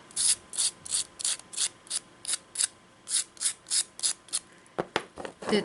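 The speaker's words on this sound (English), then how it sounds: "I will use the sandpaper to make the earrings smooth" Sandpaper rubs back and forth over small air-dry clay earrings in quick, regular strokes, about sixteen sharp scratchy rasps close up, slightly irregular near the end.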